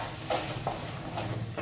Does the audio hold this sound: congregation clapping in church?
no